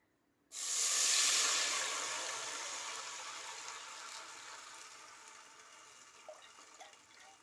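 Milk is poured into hot roasted semolina and ghee for rava halwa, setting off a sudden loud hiss that gradually dies away over several seconds.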